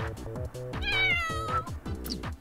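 A sick game kitten, Cashew from The Sims 4, cries out in drawn-out, sorrowful meows, one long wail held in the middle. A rhythmic background music loop plays throughout.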